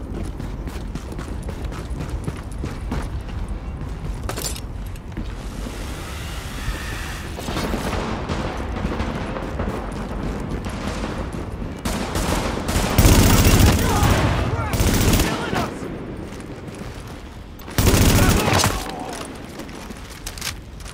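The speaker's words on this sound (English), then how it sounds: "Warning, supplies taking fire." Rapid bursts of gunfire and heavy volleys in the Tom Clancy's The Division video game, dense and continuous with louder blasts near the middle and end, over game ambience and faint voices.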